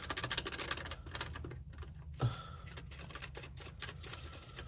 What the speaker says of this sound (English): Hear that wastegate rattle?